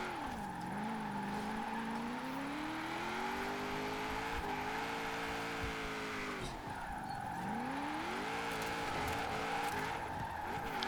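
A Chevrolet Impala SS drifting in Forza Horizon 4, its engine droning at low revs and rising and falling in long sweeping pitch curves as the car slides, with a faint tire hiss underneath.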